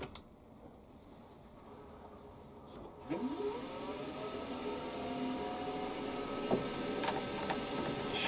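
A new milling machine runs a cutting pass across a vise clamp, its motor whirring steadily with a rising tonal whine as the cut begins, plus occasional sharp metallic ticks, close and continuous.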